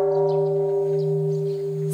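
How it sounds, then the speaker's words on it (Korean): A large Buddhist temple bell at a Korean memorial rite for a deceased monk, its low, steady resonant hum sustaining evenly without a new strike, loud and alone. "세상을 깨우는 회향의 종소리는 계속 이어질 것이다."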